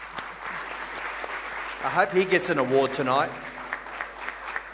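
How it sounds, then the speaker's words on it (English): Audience applause fills an awards night hall, a steady clapping wash that runs under a voice speaking over it. "So give him a round of applause."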